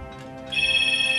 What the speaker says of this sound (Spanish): Vaya, ahora llamada de teléfono.